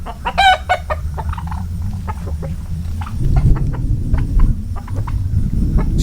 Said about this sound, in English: This rooster comes up.